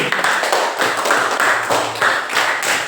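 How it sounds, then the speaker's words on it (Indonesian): A small group in a classroom claps in a few short, rhythmic bursts, close and fairly loud, with distinct repeated hand slaps rather than a sustained crowd roar. "Oke, tepuk tangan buat Chelsea."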